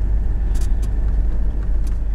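A truck, likely a long-haul rig on a Minsk–Zhlobin–Gomel run, rumbles steadily with a deep, close engine drone throughout, with faint bursts of higher hiss on top.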